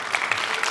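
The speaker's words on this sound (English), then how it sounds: "Let's give him a round of applause to McConnell" Applause from a workshop audience for a student-athlete: a short burst of mixed clapping, moderately loud and slightly distant, with no voices over it.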